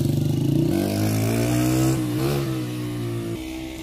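Dirt bike engine fitted with a custom muffler, revving loud and close with a throaty pulsing note that rises and settles over a few seconds.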